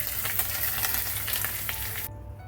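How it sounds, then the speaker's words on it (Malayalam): Dried red chillies and curry leaves tempered in hot oil and poured into beetroot pachadi give a loud, dense sizzle that crackles steadily, then cuts off abruptly near the end, leaving only a faint low hum. "അരി കളഞ്ഞിട്ടുള്ള വറ്റൽമുളകാണ്. കറിവേപ്പില ഇത് നമ്മുടെ പച്ചടിയിലോട്ട് ഒഴിച്ചു കൊടുക്കാം."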